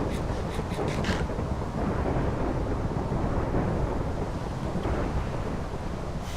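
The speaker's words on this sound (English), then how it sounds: "Big lightning going on." Thunder rumbles through a steady rain-and-wind roar during a lightning storm in the video game Minecraft, with a sharper crack near the start and constant dense noise throughout.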